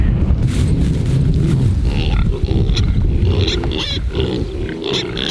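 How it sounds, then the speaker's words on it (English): Pigs free-ranging outdoors on a small farm, with piglets among them, grunt and snort close by in a loud, continuous jumble of overlapping calls. "Good morning, piggies."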